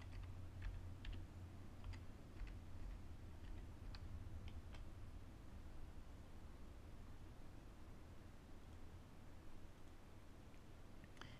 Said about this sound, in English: Go ahead and type in localhost.